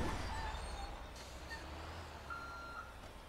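A garbage truck in a GTA video game gives a few faint, evenly spaced reversing beeps over a low engine idle, quiet and somewhat distant, with no talking.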